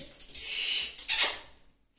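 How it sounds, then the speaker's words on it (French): A dog scratching on a floor mat indoors, a rapid scraping rasp in two short bursts close by, fading out after a second or so. "Mon chien gratte."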